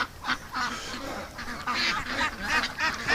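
Several ducks quack in a burst of repeated, overlapping calls, close and fairly loud, with uneven rhythm and no talk.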